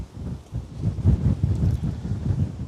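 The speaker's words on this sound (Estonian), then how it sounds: "hea proovikivi taaskord minu mikrile, selline tuuline ilm" Strong wind buffets the microphone outdoors in gusty weather on a narrow strip of land by the sea, a steady low rumble with rising and falling gusts and no voices.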